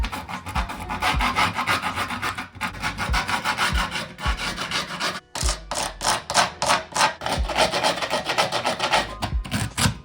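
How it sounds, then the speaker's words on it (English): Allen wrench scoring the edges of grip tape on a custom pro scooter, producing a close, continuous rough scraping and rasping in quick back-and-forth strokes, with a few brief pauses. "I can finish scoring the grip tape"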